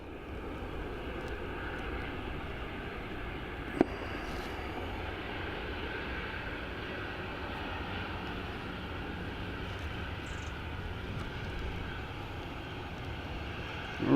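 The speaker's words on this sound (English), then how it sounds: "It's the Egypt Air in from Cairo." An Egypt Air jet arriving from Cairo at Dublin Airport gives a steady, even engine roar that holds for the whole stretch, with no voices over it.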